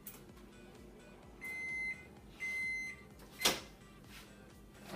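A few short electronic beeps sound in quick succession as a microwave oven timer is set, then a brief clatter, all fairly quiet with no speech.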